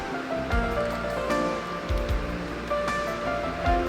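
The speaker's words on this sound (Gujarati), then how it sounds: "જોઈ શકો છો પાણી ઉપરથી આવી રહ્યું છે." Water pouring down at Zarwani waterfall in the Rajpipla forest during rain, a steady broadband rush of falling water with faint background rustle and low thumps.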